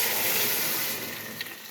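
Two litres of water pour steadily into a soup pot of lentils, a continuous close splashing gush that eases slightly toward the end.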